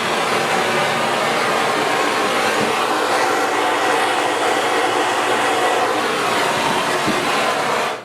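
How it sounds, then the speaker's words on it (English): A powerful torch roars steadily and loudly at close range while heating an old bathroom vanity valve, with a continuous broadband hiss and no pauses. "So all we're going to do is heat this up. You need a pretty good torch."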